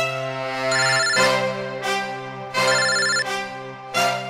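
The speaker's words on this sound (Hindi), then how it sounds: "यहाँ पे किसका फोन बज रहा है?" A mobile phone ringtone plays loudly and close, a bright repeating melodic pattern cycling several times with no other sounds.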